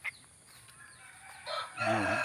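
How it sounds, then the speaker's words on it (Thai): A rooster crows near the end, a rising then sustained call after some quiet morning background and faint clucking. "ไอ้เสียงไอ้โต้งขัน"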